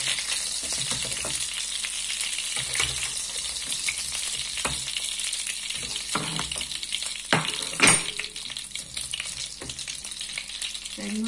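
Small floured shrimp sizzling in a pan of hot oil, a dense, steady close-up crackle with occasional scrapes and stirring taps, one sharper clatter near the end, no voices.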